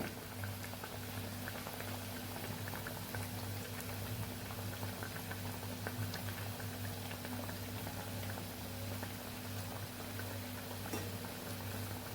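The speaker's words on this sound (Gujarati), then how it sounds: "ગોલ્ડન બ્રાઉન કલરની આપણે કટલેસને તળવાની છે" Poha cutlets deep-frying in hot oil until golden brown, a steady, dense bubbling and crackling that holds evenly throughout, close and unbroken, with no voices.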